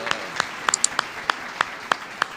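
Sharp, evenly spaced claps ring out one at a time, about eight in a steady rhythm during a church service, fairly close with no voices.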